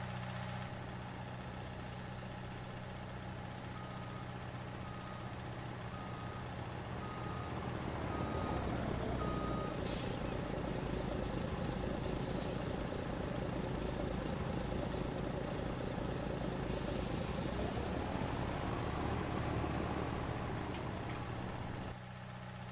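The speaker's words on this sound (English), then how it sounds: "I unloaded the entire truckload here" A dump truck unloads gravel in Farming Simulator 19, its engine idling steadily and then swelling louder as the bed tips, with intermittent reversing beeps over a continuous low rumble.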